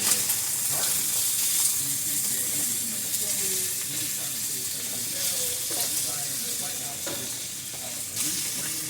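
Italian sausage frying in one pot with onion and green pepper gives a steady, close sizzle with bursts of stirring and faint voiced tones mixed in, holding constant for the whole stretch.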